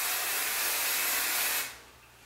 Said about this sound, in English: hit it with a little bit of hairspray